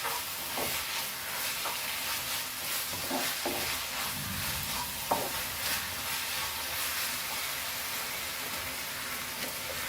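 Veg fried rice with sauces being stirred in a pan over a high flame: a continuous frying sizzle and hiss, with repeated scraping stir strokes near the start.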